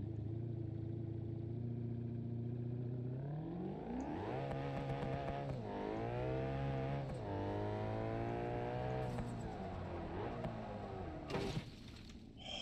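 The Speedster sports car's engine in BeamNG.drive, idling, then revving up and down in repeated rising and falling sweeps, loud and continuous, ending with a short burst of rattling noise.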